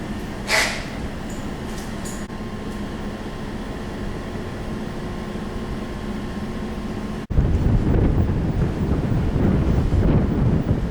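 Wind buffets the microphone while sailing into Bora Bora harbor, a steady loud rushing roar that jumps louder and rougher partway through, with waves and boat noise beneath.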